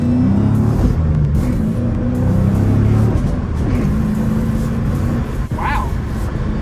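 A 2011 Dodge Challenger SRT8 with a manual gearbox accelerates at half throttle, its engine rumbling and revving loud and close from inside the car, the pitch climbing steadily.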